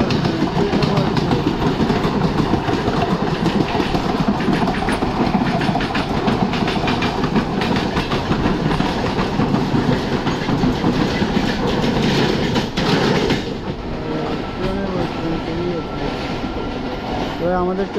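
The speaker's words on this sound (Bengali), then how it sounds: "ওই দেখো পিছনে আরেকটা ট্রেন।" A Mumbai local train runs loudly on its tracks, a continuous rumbling roar with rhythmic clickety-clack from the wheels, heard up close from onboard.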